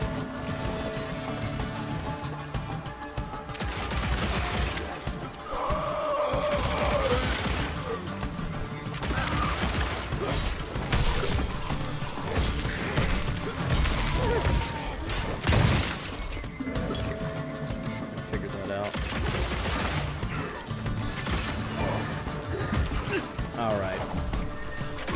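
Gunfire in the Western action game Evil West rings out in repeated bursts and sharp crashes over a busy, loud mix of music and effects, with a voice talking at times.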